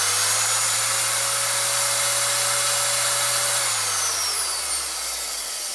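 A vintage 1980 AEG KS1.6 sheet metal shear test-runs with no material, a loud steady electric whine and hum that holds, then spins down as the motor slows near the end.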